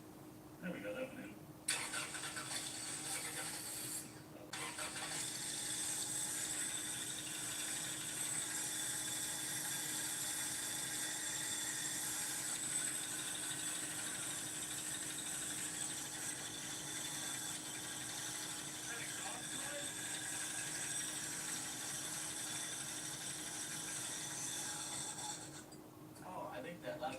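Steady loud running car engine with a persistent mechanical clatter from an exhaust leak, nearly continuous for most of the stretch with brief drops near the start and end; voices are faintly present.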